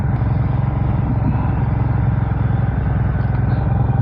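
A Hyosung Mirage 650 motorcycle engine idles at slightly raised revs in a parking lot, a loud, steady, close rumble with an even pulsing beat throughout and no voices.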